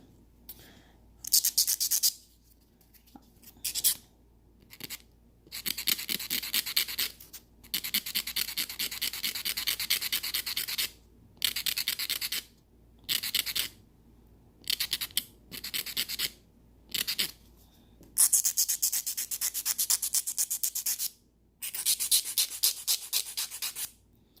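A nail file rasps against an acrylic nail while shaping it into a coffin shape, in rapid rhythmic strokes grouped into bursts separated by short pauses, close and clear, with no talking.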